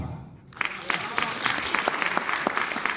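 A thin audience claps at a Hindi poetry recital, sparse, uneven individual claps starting after a brief quiet moment and continuing at moderate loudness with no one speaking.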